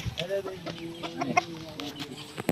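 Talisay hens clucking on a farm, short broken clucks and calls scattered across the clip at moderate distance, with some background voice and barnyard noise.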